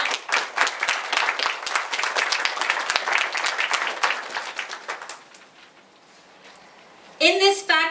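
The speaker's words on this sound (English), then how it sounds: "I would like you all to give him a round of applause in praise for what he has done." Audience applause at a spiritual satsang gathering, a sustained burst of many hands clapping that fades out midway. A voice follows near the end.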